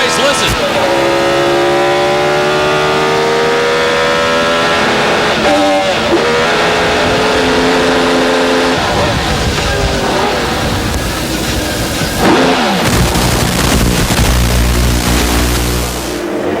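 IndyCar race cars at the 1999 MCI WorldCom Indy 200 roar past continuously, with high-revving engines rising and falling in pitch as cars pass close by, loud and unbroken throughout.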